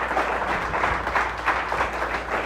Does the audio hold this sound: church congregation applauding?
yes